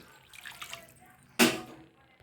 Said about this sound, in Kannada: ಅದೇ ಲೋಟದ ಅಳತೆಯಲ್ಲಿ ಒಂದು ಲೋಟ ನೀರನ್ನು ಹಾಕ್ತಾ ಇದ್ದೀನಿ